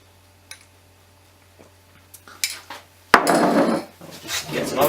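A metal spoon taps and scrapes inside a jar of pizza topping with a few light clinks, then a louder stretch of clattering and wet rustling as the topping is scooped out and spread close by.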